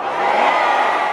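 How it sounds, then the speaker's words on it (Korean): A large rally crowd at a prayer gathering in Daejeon lets out a loud, continuous roar of shouting and cheering, one unbroken wall of voices from start to finish. "강력한 함성 5초간 발사해 주시기 바랍니다"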